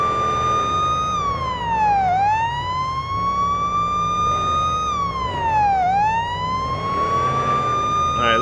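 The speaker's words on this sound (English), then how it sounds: "it sounded like I could hear a second siren" A police siren in the Police Simulator video game wails, sweeping slowly up and down in long cycles, loud and steady throughout, with a low engine rumble underneath.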